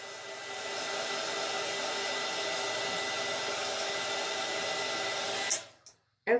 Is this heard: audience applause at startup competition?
no